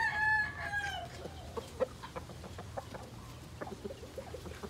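A rooster crows loudly near the start among a flock of chickens, followed by steady clucking and scattered pecking calls from the Kai line brood flock in the daytime.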